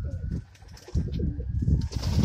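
Pigeons in a loft coo and squeak amid rumbling background noise and muffled movement, the calls soft and layered under a busy, close ambience with faint talk mixed in.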